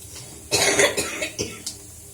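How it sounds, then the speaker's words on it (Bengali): A woman coughs several times while cooking in a home kitchen: one strong burst of hacking coughs, then a few shorter, weaker coughs trailing off, close and loud with no talking. "দিয়ে এত কাশি হচ্ছে, কিছু করার নেই।"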